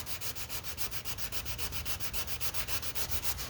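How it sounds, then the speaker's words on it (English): Lacquer primer over a bondo dent repair on a car body is block sanded by hand in quick, even back-and-forth strokes, a rhythmic rasping scrape repeating about every fifth of a second, close but fairly quiet, with no talk. "So we'll keep sanding."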